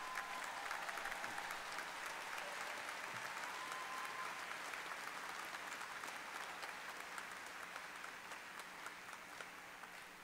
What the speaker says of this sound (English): Please rise and give a round of applause.